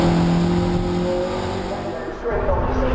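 Toyota MR2 race cars on the Cadwell Park circuit, engines droning loud and close, with rising and falling revs as the pack passes, under a commentator's voice.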